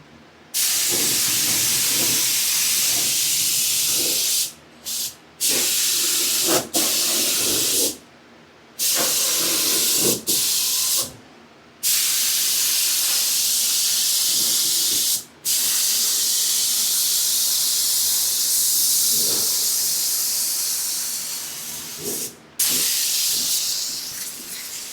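A spray gun lays color and clear coat on a Datsun 280Z inside a wetted-down booth, loud steady hissing bursts broken by several short pauses as the trigger releases, no talk.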